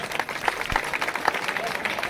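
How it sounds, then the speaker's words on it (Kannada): Audience clapping at a government high school Independence Day celebration in Uttangi village, a steady patter of many hands close by that holds for about two seconds with a few sharper claps standing out. "ಒಂದು ಚಪ್ಪಾಳೆ ಬರ್ಬೇಕು ಅವ್ರಿಗೆ"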